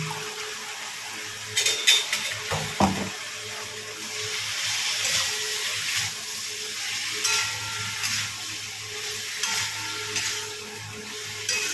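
Paneer curry stir-fried in a pan with ghee and garam masala, a soft steady sizzle with intermittent scraping and clinks of a spatula against the pan, no voices.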